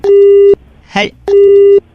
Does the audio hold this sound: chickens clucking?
no